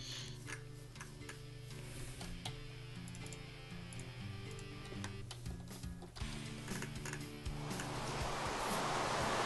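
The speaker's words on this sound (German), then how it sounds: "Regnet tut's auch hier oben." Rain falls in Minecraft as a soft, steady hiss that swells toward the end, under ticking game music.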